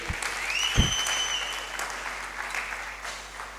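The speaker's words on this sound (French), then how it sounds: "Est-ce qu'on peut applaudir la parole du Seigneur?" A church congregation applauds during a French sermon, a steady wash of clapping throughout, with a short vocal sound near the start and a faint whistle-like tone layered over it.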